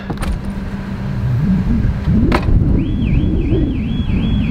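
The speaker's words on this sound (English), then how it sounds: "You just set off a car alarm." A car alarm triggered when the boot is slammed: a thud and jangle, then a loud, close warbling siren rising and falling in repeated sweeps over engine noise.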